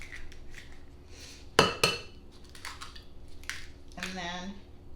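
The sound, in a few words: cracking eggs into a separate bowl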